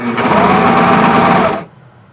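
A serger stitches a bodice-to-hem seam in one fast, loud, continuous burst of about one and a half seconds, then stops abruptly, leaving near silence.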